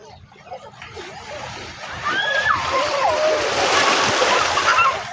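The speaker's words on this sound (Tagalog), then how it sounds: "Ayun ang dagat mga idol." Sea water splashes and sloshes close by at a beach, building into a louder continuous rush of churning water, with faint voices in the background.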